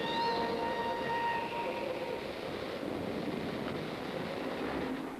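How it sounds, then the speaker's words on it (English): A British passenger express train in a station, a broad steady rumble with rolling rail noise and faint tonal whines, constant and fairly close throughout. "it's just another train."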